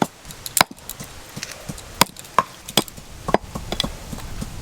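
Goat meat chopped into large pieces with sharp, irregular knife strikes on a board, a series of loud close thwacks separated by short pauses, with no talk.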